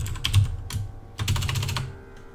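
Bursts of typing on a computer keyboard, with clustered key clicks in two quick runs separated by a short pause, close and fairly quiet with no talking.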